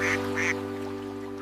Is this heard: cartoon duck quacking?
yes